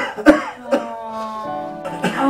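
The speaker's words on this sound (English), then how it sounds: "I can't seem to get rid of this cough" A few harsh coughs, up close, with a raspy throat-clearing sound between them and a faint voice trailing at the end.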